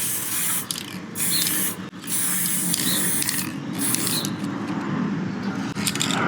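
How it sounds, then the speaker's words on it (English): An aerosol can sprays olive drab primer straight down onto 1/72 scale plastic WWII US infantry figures still attached to the sprue. The hiss is loud and steady, running almost nonstop, with a few brief breaks between bursts. "I'm going to shoot straight down with the can, and we'll see how it goes"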